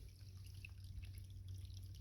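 Water in a small creek along the Appalachian Trail in Shenandoah trickles and drips steadily, a faint, close babble with low rumble underneath and no voices.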